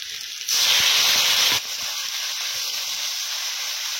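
Chopped tomatoes hit hot fried onions in a village kitchen and make a sudden loud hissing sizzle lasting about a second. The sizzle then settles into a quieter steady frying hiss, with no voices.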